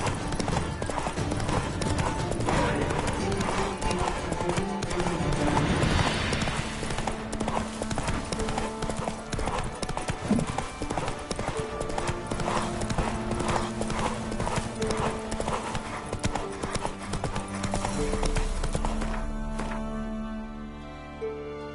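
Roach the horse galloping in The Witcher 3, rapid rhythmic hoofbeats pounding steadily and loudly under a dense layer of music and game sound, slowing toward the end.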